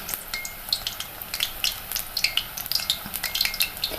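Egg bonda sizzling and bubbling in hot oil over a low flame, a steady soft crackle with scattered brighter pops and light stirring sounds, close and moderately quiet with no talking.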